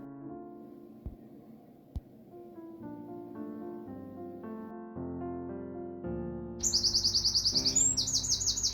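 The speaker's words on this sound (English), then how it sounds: "sit outside with my cup of coffee and listen to the birds" Garden birds sing outdoors: bright, rapid chirps burst in loudly near the end over a steady, layered tonal hum that runs throughout.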